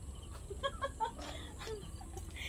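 Backyard chickens at feeding time on a small farm give a few soft, close clucks and short calls over a quiet background hum.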